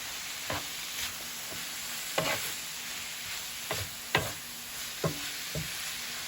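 Cabbage stir fry being stirred in a hot pan: a steady sizzle with a spatula scraping through it at intervals of roughly a second, close and clear, with no talking.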